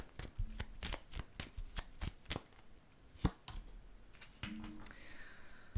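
Tarot cards shuffled and drawn during a reading, giving a run of sharp papery riffles and snaps with a few louder slaps, close and clear, with no talking.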